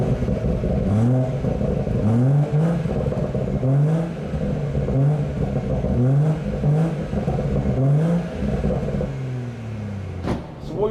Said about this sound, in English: this is a non-M Sport exhaust, this is just a normal exhaust